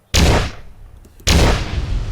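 Two heavy, booming blasts about a second apart from the turrets of a Star Wars ATTE walker in Ark Survival Evolved, each loud and close with a rumbling decay.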